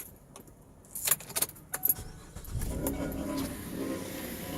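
Car keys jangle in a few quick metallic bursts near the start, then give way to a low steady hum of the car for the rest, close and fairly quiet, with no talking.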